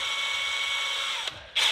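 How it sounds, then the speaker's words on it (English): A power drill fitted with a small bit bores a pilot hole in the metal of a 1962 VW Double Cab: a loud, steady high whine that cuts off briefly, then spins up again. "But what's easier is getting a smaller drill bit and go through, and then come back later with it."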